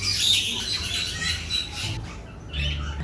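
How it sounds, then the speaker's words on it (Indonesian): Birds squawk and chirp in short, fairly loud bursts in an outdoor aviary alongside cockatoos, with a steady background hum and no speech over them. "Oh, ada burung."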